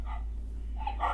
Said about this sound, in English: Also have like some dog sounds.